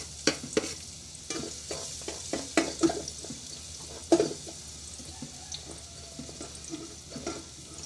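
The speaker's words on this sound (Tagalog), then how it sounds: "pagkatapos natin mahiwa yung sibuyas, salang na natin dito guys. Medyo mainit yung kawali." Sliced onions hit a hot wok for fried rice, sizzling steadily while a utensil scrapes and knocks against the pan in irregular stirring strokes, close and moderately loud with no talking.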